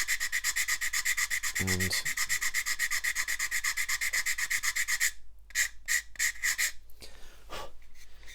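A hand file rasps across a plastic 1/48 scale Vought Corsair model wing in steady, rhythmic rubbing strokes, close and continuous, turning to shorter broken strokes near the end; a brief word is spoken early on.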